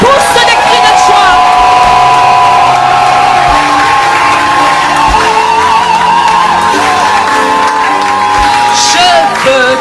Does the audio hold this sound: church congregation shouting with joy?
yes